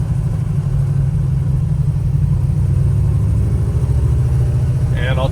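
A 1965 Chevrolet Chevelle Malibu coupe with a 500 hp 454 LS7 big-block V8 and stick shift rumbles steadily at low revs, a deep continuous engine drone heard from inside while driving.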